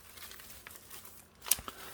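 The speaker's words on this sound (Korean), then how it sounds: "이 비닐을 밑으로 툭 내려주시면 끝 끝입니다" A plastic liner from a refill roll of continuous trash bags is pulled down inside a bin, with faint soft crinkling and then one sharper close rustle near the end.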